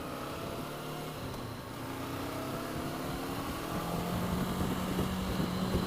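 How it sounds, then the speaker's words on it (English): A 2019 Honda CB500X motorcycle engine is held at high revs, a continuous whining drone with a slowly rising pitch and level, no speech over it. "rev high, but it kind of complains while it's doing it. I don't like that sound it's making."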